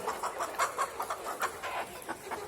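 Repeated soft clucks from a chicken, a steady run of short calls close by with no talking.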